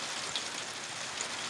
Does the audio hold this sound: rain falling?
yes